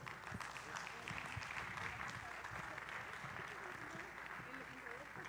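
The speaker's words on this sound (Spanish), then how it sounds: "Un fuerte aplauso." Audience applause welcoming a guest speaker at a conference on the future of artificial intelligence, a continuous, even wash of many hands clapping, steady and faint throughout.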